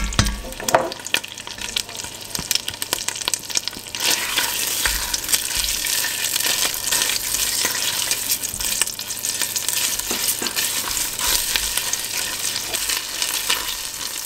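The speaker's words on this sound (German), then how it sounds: "Dort wird jetzt etwas Tomaten-Paprikamark angeschwitzt." Tomato and pepper paste sizzling and frying in hot oil in a pan, a steady loud crackle throughout with occasional stirring scrapes, no voices.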